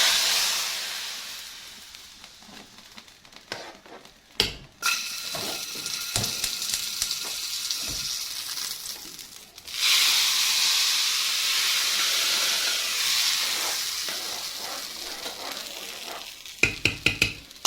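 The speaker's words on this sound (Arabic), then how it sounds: "الطماطم سايباها لسه بتتسبك اهي." Tomatoes, garlic and coriander simmer and sizzle in a pot for a green bean dish, a steady frying hiss broken by clinks of stirring that swells louder partway through.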